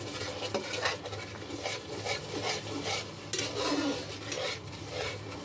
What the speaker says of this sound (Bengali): মিডিয়াম ফ্লেমে রেখে কষাচ্ছি।